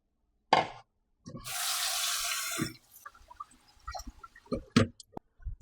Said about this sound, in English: Going to wash the rice until the water come clear.